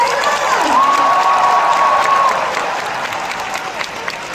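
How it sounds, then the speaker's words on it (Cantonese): A Hong Kong concert audience at a show breaks into dense applause and cheering, with a sharp whistle-like cry riding over the clapping before the crowd noise eases slightly. "好多嘅掌聲俾Anthony嚟啦！"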